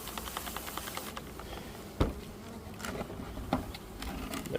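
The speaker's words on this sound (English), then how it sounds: "spray the bees down a little bit" Dense, steady buzzing of many honey bees close by during installation of package bees into a hive, with a few sharper knocks and thuds breaking through.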